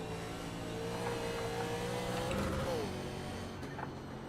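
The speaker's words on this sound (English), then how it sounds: "The engine on this thing almost sounds like it's from sci-fi." A race car engine in the iRacing video game, a Monte Carlo, hums at moderate level with a tonal whine that rises and then falls away, steady and fairly quiet.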